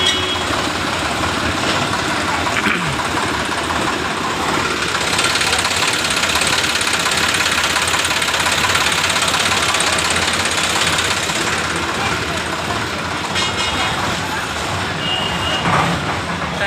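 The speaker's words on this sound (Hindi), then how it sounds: "साइड में ट्रैक्टर जो लगी है।" A tractor engine runs steadily on a flooded road, a dense continuous rumble with vehicle noise around it, loud and constant throughout.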